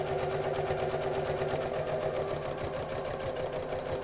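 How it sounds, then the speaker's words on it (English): Sewing machine stitching a stuffed fabric bunny around its curves, running steadily at a fast even rhythmic chatter throughout, close and moderately quiet, with no pauses. "stop with the needle in the down position so that you can pivot this around and then carry on sewing"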